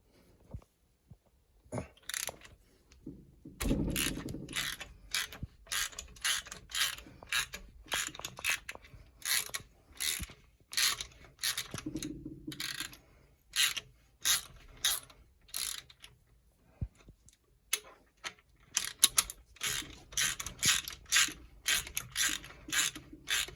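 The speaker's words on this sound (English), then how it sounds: "get your socket, ratchet on lefty loosey only, and put it in there and loosen it up" A socket ratchet loosens a spark plug on a Triumph Spitfire, giving bursts of close, rapid clicking with short pauses and some scraping of the tool in between.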